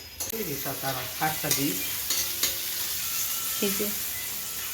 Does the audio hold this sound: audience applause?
no